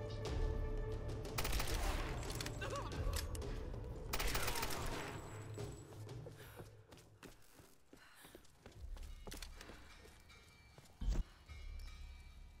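Gunfire during Tomb Raider gameplay: bursts of shots and busy game noise, with one sharp loud shot near the end, all set against a dense background of effects.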